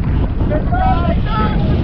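Strong wind buffets the microphone in a steady low rumble during a group motorcycle ride, with faint voices calling out briefly over the roar.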